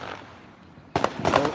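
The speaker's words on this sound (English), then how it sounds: "That's somebody shooting a 380." Gunshots from a .380 pistol ring out in the distance: a quick pair of sharp reports followed by a second cluster of cracks a moment later, fairly faint.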